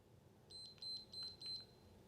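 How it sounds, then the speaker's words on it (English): A small electronic device beeps four times in quick, evenly spaced high-pitched tones, fairly faint against a quiet room, followed by a short click. "it's beeping more, hold on."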